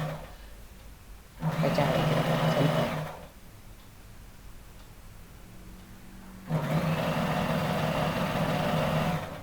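A sewing machine stitches the lining of a saree blouse in two sustained whirring runs, each a few seconds long, with a quieter pause between them. The sound is close and steady, with no speech.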